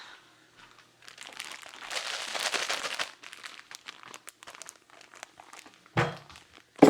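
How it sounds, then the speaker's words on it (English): A plastic bag crinkles as marshmallows are put into it, starting quiet then building into a dense rustling stretch, followed by scattered handling crackles and a couple of loud sharp crinkles at the end. "I'm just gonna put these marshmallows in a bag so it's a little bit easier for me to grab them as I need."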